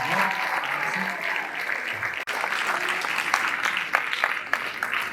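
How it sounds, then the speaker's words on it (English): An audience at a school inter-house speech competition applauds, a steady, dense wash of clapping from many hands that runs through the whole moment, with a few sharper individual claps standing out. "Please let us applaud him"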